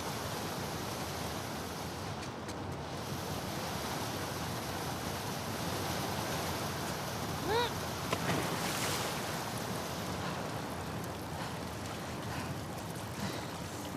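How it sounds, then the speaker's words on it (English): Fast-flowing water torrent in The Last of Us Part II, a steady broad rushing roar that fills the whole stretch at a constant level, with a brief splashy swell midway. "the player was faced with a fast-flowing torrent of water they couldn't cross"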